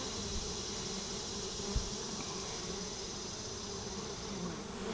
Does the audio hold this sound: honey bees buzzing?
yes